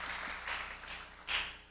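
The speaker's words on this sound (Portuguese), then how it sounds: "Gente, vamos dar um aplauso à professora." Audience applauding a professor at a university job-market event: a steady wash of clapping from a seated crowd, moderately loud, swelling briefly near the end.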